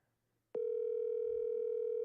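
A telephone dial tone heard while calling a sales lead starts abruptly after a brief quiet moment and holds as a steady, loud, unbroken hum to the end, with a faint low murmur beneath it.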